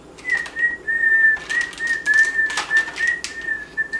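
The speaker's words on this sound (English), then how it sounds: "This is whistle candy." A Japanese whistle candy is blown into a thin, steady whistle tone that wavers slightly and breaks into short repeated bursts, loud and close, with breathy puffs around the notes.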